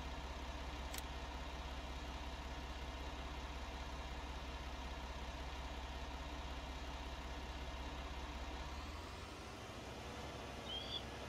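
A tractor engine in Farming Simulator 19 idles with a steady low rumble that holds evenly, then drops and fades near the end, with no talk.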